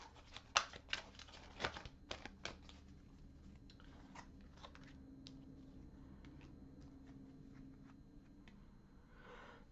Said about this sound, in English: it was just me not shuffling very well